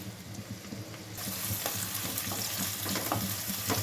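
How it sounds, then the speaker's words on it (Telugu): Onions and green chillies go into hot oil and a loud, dense sizzle swells up, with light stirring taps of a spatula against the pan and no voices. "ఆయిల్ వేడెక్కిందా లేదు చూసుకొని ఆనియన్స్, పచ్చిమిర్చి,"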